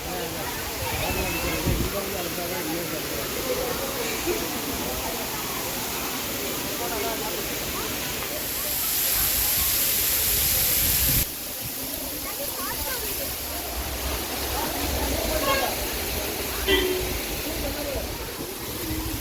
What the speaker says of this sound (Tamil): இந்த அருவியிலேருந்து வர்ற தண்ணி பார்த்திங்கன்னா மற்ற அருவி மாதிரி இல்லாமல் ஒரு ஷவர்லேருந்து வர்ற தண்ணி மாதிரி வருது